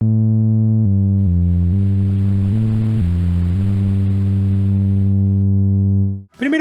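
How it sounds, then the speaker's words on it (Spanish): Arturia MicroFreak synth bass with noise blended in using the Shape knob: a steady low tone stepping through a few notes under a rising hiss that fades away at the end, loud and close, with no speech. "Y con el potenciómetro de shape podemos agregar ruido."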